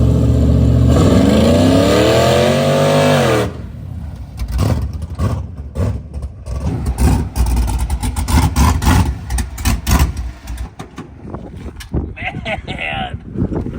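A Cadillac Deville on 35-inch mud tires revs hard and pulls away up close, its engine roar dropping off after a few seconds into gusty outdoor noise with a person talking.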